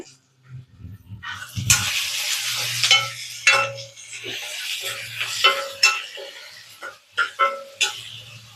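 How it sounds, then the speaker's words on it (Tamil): Tomatoes sauté with salt in a pan, giving a steady sizzle with repeated scraping strokes of a spoon stirring, close and fairly loud throughout. "கொஞ்சம் உப்பு போட்டு வதக்கிடலாம் உப்பு போட்டாச்சு"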